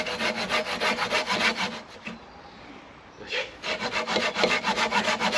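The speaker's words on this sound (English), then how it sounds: "Manually sawing wood." Rhythmic back-and-forth strokes of a folding hand saw cutting through wood in the woods, close and rasping, with a brief pause midway before the sawing resumes.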